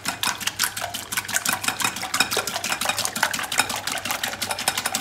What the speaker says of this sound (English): I'm gonna whisk them up.